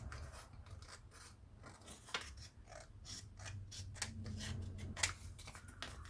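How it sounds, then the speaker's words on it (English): Scissors trim excess paper from a handmade junk journal cover with a hidden spine and peek-a-boo window, giving a quiet run of close, crisp snips and paper rustles with no talking. "can go back and cut off the excess."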